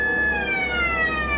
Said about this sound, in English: Cut the siren.